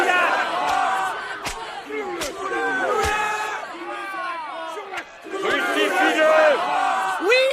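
An angry crowd in an audio drama shouts and jeers at Jesus, many overlapping voices yelling in bursts with sharp cries throughout, loud and close.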